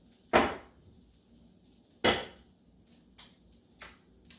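A metal pan of shrimp cooking in butter is shifted off the stove, giving two sharp, close clanks followed by two lighter knocks, spaced out with quiet between them and no talking.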